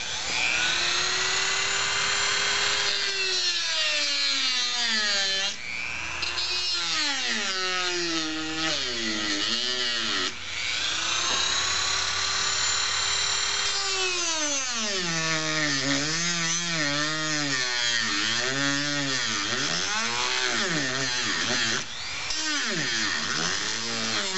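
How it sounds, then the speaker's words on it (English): A Dremel rotary tool cuts through a plastic clip at the base of a Nelson Rain Train 1865 lawn sprinkler cap. Its high whine rises and falls in pitch as the load changes, continuing loud and close for over twenty seconds without speech. "I just take that Dremel tool and I cut off at the base of that clip"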